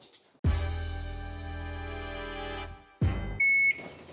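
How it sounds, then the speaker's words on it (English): An oven timer beeps while a truffle cheesecake bakes: a long, steady electronic tone, a short second burst, then a brief higher-pitched beep, loud against a quiet kitchen. "our oven timer is going off"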